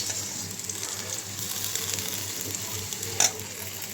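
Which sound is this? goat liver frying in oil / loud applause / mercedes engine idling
goat liver frying in oil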